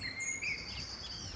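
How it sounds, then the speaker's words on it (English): Blackbirds singing beside a canal in spring, bright melodic phrases and chirps carrying at a moderate distance over a soft, steady outdoor background. "Blackbirds are singing."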